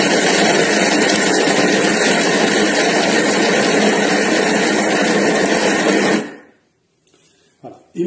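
A Thermomix food processor whirs loud and steady for about six seconds as it mixes butter into puff pastry dough, then cuts off abruptly, leaving near silence broken by a brief soft knock.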